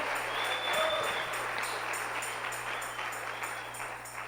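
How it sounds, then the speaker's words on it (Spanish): A church congregation claps together in a dense, steady wash of applause that carries on evenly from start to finish. "Vamos a darle una ofrenda de palmas al Señor."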